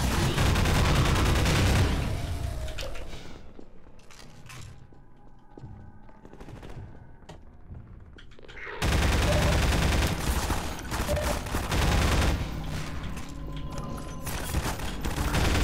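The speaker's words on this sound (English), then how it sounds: "Shoot my gun? I'm holding left click." Rapid sustained automatic gunfire from Half-Life 2 gameplay, loud bursts dense for the first few seconds, a quieter stretch with scattered shots, then heavy continuous firing again to the end.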